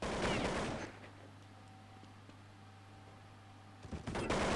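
Counter-Strike gunfire on the de_nuke map, with loud bursts of shots at the start and end and a quieter stretch of steady background hum between them.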